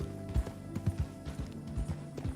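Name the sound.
horse hooves on dirt in Red Dead Redemption 2 video game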